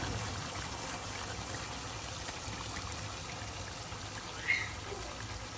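Steady stream of water poured into a pot of aloo gobi, a potato and cauliflower curry, a continuous even rushing trickle lasting several seconds, close and moderately loud with no talking.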